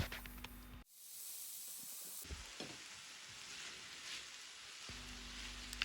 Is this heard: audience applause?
no